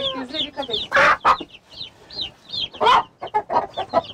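A chicken in a backyard coop clucks in rapid, excited bursts with a few louder squawks, close and fairly loud, alongside agitated scratching and fowl chatter throughout.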